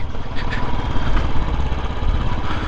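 A friend's motorcycle engine running steadily throughout while being ridden along a mountain road, a close, continuous low rumble with no talk.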